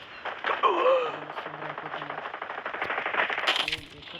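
Rapid automatic gunfire from the video game Call of Duty, a dense, sustained burst of shots rattling for several seconds, loud and close, with a few metallic clinks mixed in.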